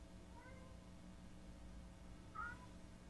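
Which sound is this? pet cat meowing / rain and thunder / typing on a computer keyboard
pet cat meowing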